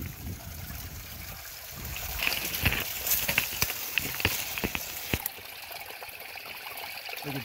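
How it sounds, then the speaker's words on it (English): A natural spring in Lee County, Virginia, trickling straight out of the ground, a soft continuous babble with scattered bright drips and plinks, heard close with no one talking. "This is a natural spring, so it's coming right out from underneath the ground"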